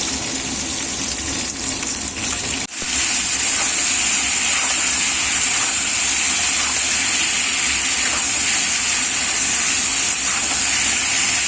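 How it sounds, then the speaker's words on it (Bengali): Fish sizzles steadily in hot oil in a home kitchen pan, a loud continuous hissing crackle that jumps up briefly near the start and then holds evenly throughout, with no talking. "মাছটা ভাজছি"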